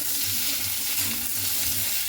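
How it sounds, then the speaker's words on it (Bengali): Chopped papaya sizzles steadily in a hot pan while being stirred, a loud, dense frying hiss with soft rhythmic scraping underneath, close up and without talk. "এরপরে পেঁপেটা দিয়ে খুব ভালো করে এভাবে নাড়াচাড়া করে নেব।"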